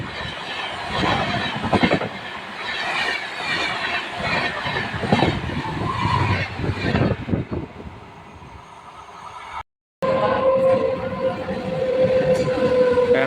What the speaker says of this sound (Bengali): এখন চার নম্বর প্ল্যাটফর্ম দিয়ে ছুটে বেরিয়ে যাচ্ছে শিলচর কলকাতা স্পেশাল এক্সপ্রেস ট্রেনটি